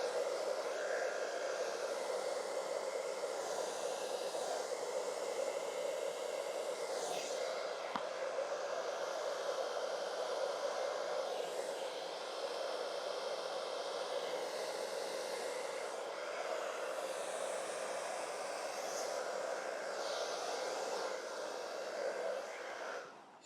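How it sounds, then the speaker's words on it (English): A handheld blow dryer runs continuously, drying 99% alcohol ink on a 36x48 canvas, a steady close whooshing hiss with a faint motor hum, lasting over twenty seconds with no speech. "As I'm using the blow dryer."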